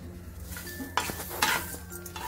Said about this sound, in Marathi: असं ह्याला छान भाजायचंय आपल्याला